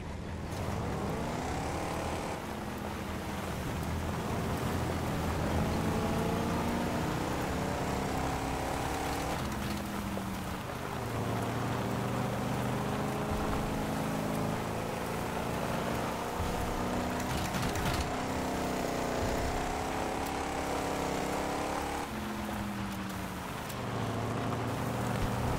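Several motorboat engines run together, a loud, continuous drone with rising and falling pitch as throttles shift, close by and steady throughout with no talk.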